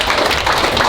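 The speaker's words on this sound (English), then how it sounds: "Round of applause for Mikayla and her vows" Wedding guests applaud, a dense and steady wash of many hands clapping at once that holds at an even level for the whole moment.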